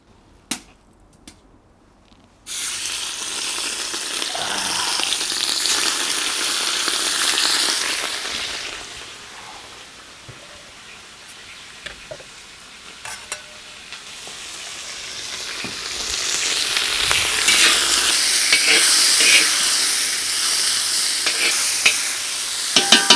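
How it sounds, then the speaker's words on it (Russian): Steady loud sizzling of meat frying in a kazan cauldron, crackling and hissing continuously, with occasional stirring clatter and louder bursts toward the end. "Оставляем мясо поджариваться, прижариваться"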